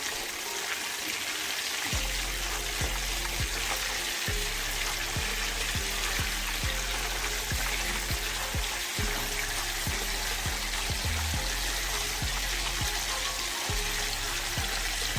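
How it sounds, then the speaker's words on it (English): Shrimp meatballs frying in oil in a pan make a continuous bright, dense sizzle, with a steady low hum and intermittent soft clicks underneath throughout. "So the balls are now finished frying"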